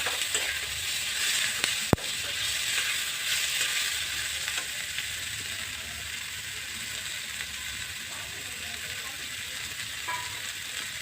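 Onions and capsicum sizzle steadily in a hot pan while chilli fish is cooked restaurant style. There is an even, close frying hiss with one sharp click near the start.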